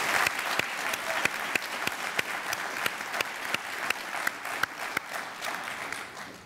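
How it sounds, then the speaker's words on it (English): At a 2014 high school graduation ceremony the crowd applauds steadily, with a few sharp, loud nearby claps standing out in a regular rhythm over the broad clapping. "Please give them all a round of applause again."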